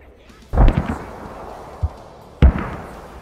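Mortar fire in a video game: two heavy, booming blasts about two seconds apart, each with a rumbling tail, and a smaller thud between them.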